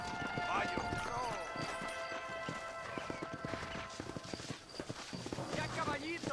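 Steady clip-clop of horse hooves on a dirt trail in the video game Red Dead Redemption, a brisk rhythmic trot close by under a musical score and a voice, with a snort and whinny.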